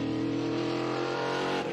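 Trans Am race car engine at Road Atlanta, a loud, steady, sustained roar as the car holds high revs through the whole stretch, with no one talking over it.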